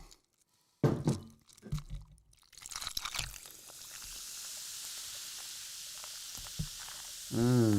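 Jameson whiskey and Coke pours into a glass, opening with a few thunks and clinks, then a steady hissing, fizzing pour that runs on, with a brief clatter near the end.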